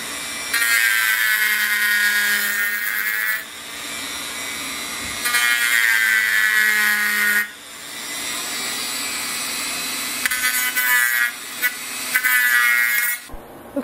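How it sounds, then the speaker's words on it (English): A Dremel rotary tool cuts the radiator grills out of an SD40-2 model locomotive, giving a steady high-pitched whine close by in three long bursts separated by short pauses, with no talking. "I'll be using the Dremel here, and we'll go ahead and get started"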